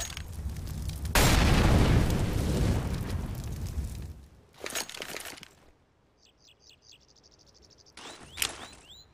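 An incendiary grenade thrown in CS:GO bursts with a loud whooshing roar, and the fire crackles for about three seconds. After a short lull come chirping insect-like ambient tones and a sharper final burst.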